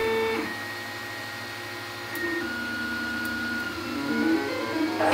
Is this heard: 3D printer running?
yes